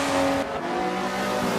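Race cars roar around the Monza circuit in Forza 7, a white Trans Am chasing a Ford Focus, with a steady engine drone and a sustained high whine fading partway through.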